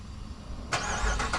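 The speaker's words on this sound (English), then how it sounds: "let's go ahead and get this this cold start on this 300" A Chrysler 300 engine cold-starts outdoors at a Baltimore car meet: a quiet lead-in, then a sudden loud crank and roaring catch that flares up aggressively with a second revving surge.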